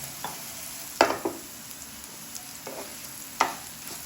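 Bitter gourd (karela) chips frying in a little oil, a soft steady sizzle broken by a few sharp spatula clicks and scrapes against the pan, close and alone.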